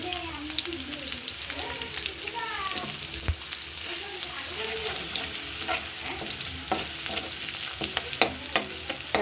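Garam masala hits a hot pan for a prawn malai curry, frying with a steady sizzle while a spoon stirs and scrapes in quick, close strokes throughout.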